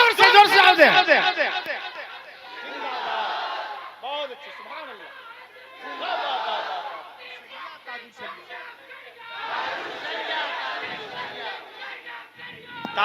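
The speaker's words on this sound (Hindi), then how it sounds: "सारे लोग जवाब दे माशाअल्लाह, जोर से जवाब दे।" Crowd at an Islamic religious speech shouts responses in unison to the preacher's call, bursts of massed voices recurring every few seconds amid chatter, with the speaker's amplified voice between them.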